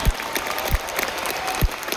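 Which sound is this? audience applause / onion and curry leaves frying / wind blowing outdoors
audience applause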